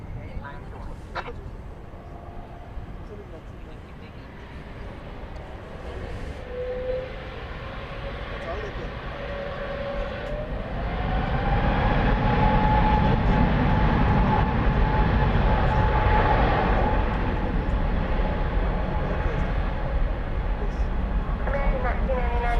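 A Fiji Airways heavy jet takes off from runway 18 left at DFW after dark. A low rumbling roar swells about halfway through and stays loud and steady to the end, with faint radio voices talking over it.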